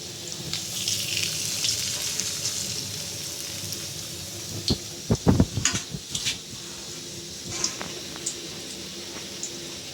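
Tender jute leaf fritters (bora) frying gently over a low flame, a soft continuous sizzle with a brief cluster of pan clatter and scraping near the middle, otherwise calm and close.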